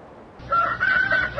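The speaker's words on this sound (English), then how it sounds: "I told you it was a rooster, Captain." A rooster crows once as a radio drama sound effect, a clear, close, drawn-out call with a rising start and a sustained middle lasting about a second, heard alone.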